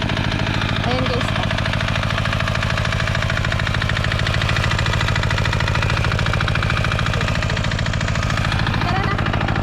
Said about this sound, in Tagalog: May nagpapatubig dito guys. Dali. Nakaandar yung makina nila